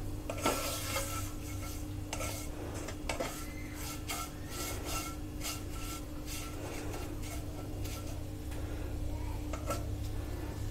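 Vermicelli roasting in ghee in a pan for sweet seviyan, stirred steadily with repeated soft scraping and light clinks over a low, continuous sizzle and background hum.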